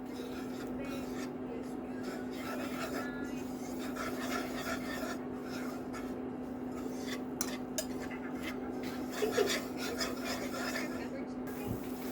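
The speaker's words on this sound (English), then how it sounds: "Once the butter melted, let's add our flour. Keep on whisking it." A whisk scrapes steadily through flour stirred into melted butter in a pan over medium heat, a soft continuous rasping with light metallic ticks, close and quiet against a low background hum.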